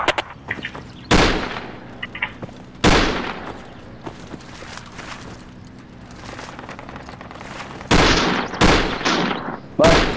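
Gunfire in Project Reality, in the middle of an infantry firefight: loud bursts of close shots at about 1, 3 and 8 seconds with quieter distant rounds between them. Players talk over the combat.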